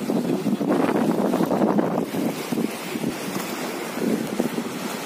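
Water pours out into a side canal at a dam, heard as a steady, loud, broadband rush mixed with wind buffeting the microphone outdoors, continuous throughout with no voices.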